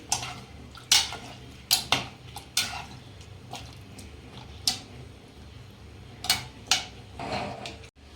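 A spoon stirs salt into water inside a pressure cooker, giving a series of sharp metallic clinks and scrapes against the pot at an irregular pace, close and fairly clear with no talk.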